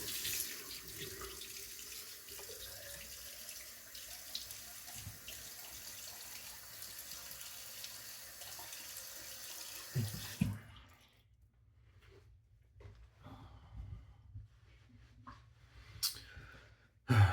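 Tap water runs steadily into a bathroom sink for a shave rinse, a continuous hiss for about ten seconds, then shuts off, leaving faint drips and small handling sounds.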